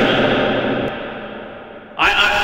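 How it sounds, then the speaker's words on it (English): A drawn-out voice tone with a reverb effect decays in a long reverberant tail, then a new burst of sound starts with fresh echo. "I've got lots of reverb settings on here."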